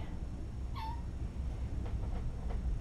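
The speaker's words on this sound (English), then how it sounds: "Kittens." A kitten gives one clear, fairly close meow, followed by a few fainter, shorter mews over a steady low background hum.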